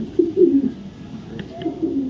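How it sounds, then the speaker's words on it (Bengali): A male racing pigeon gives a few low, throaty coos close by, two phrases with a short pause between them and faint background noise. "একদম টপ কোয়ালিটির একটা নর কবুতর"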